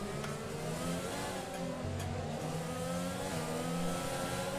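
A Formula 1 car in the F1 2020 racing game revs hard as its rear wheels spin and the back end slides out of a corner in China, a steady, loud, buzzing engine note with shifting pitch that fills the whole stretch without talk.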